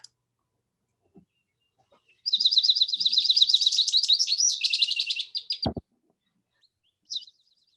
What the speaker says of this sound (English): I believe that might have been the goldfinch